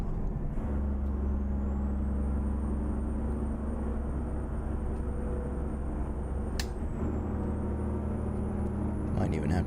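Heavy diesel engine of an FL86 truck hauling containers in American Truck Simulator, set in California, drones low and steady for several seconds with a brief hiss near the end, under continuous talk.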